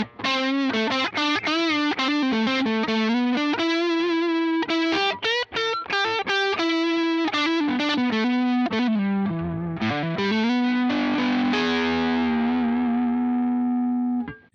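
An electric guitar runs through the Blackstar Jared James Nichols plugin overdrive, playing a bluesy lead line of sustained, bending notes with a thick, gritty distorted tone that ends on a long ringing note.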